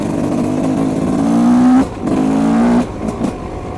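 An enduro motorcycle engine drones loudly on a countryside trail, revving steadily, briefly dropping off, then surging again before easing back near the end.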